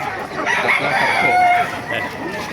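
A rooster crows amid the noisy bustle of a chicken market in Baliuag, its call rising over a busy background of other birds and faint voices.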